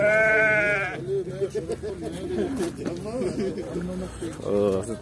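Sheep bleat at a livestock market, a loud close bleat at the start and another near the end, with several people talking over a busy background.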